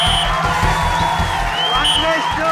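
A crowd at a village reality show cheers and claps, with whoops and scattered applause over loud background music and chatter.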